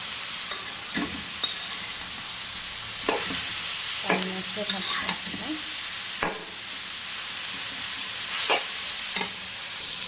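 A vegetable bhaji sizzles steadily in a pot on a gas stove, a constant bright hiss of frying broken by sharp scrapes and clinks of a spoon stirring at irregular intervals, close and fairly loud with no talking.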